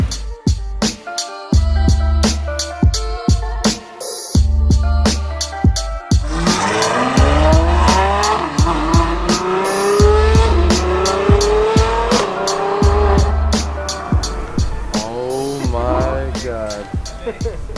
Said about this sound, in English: That nice V12 sound right there.